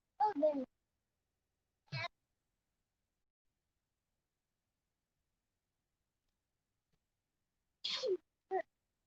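A short sneeze at the start of a quiet morning indoors, then several brief isolated vocal bursts spaced across otherwise silent stretches.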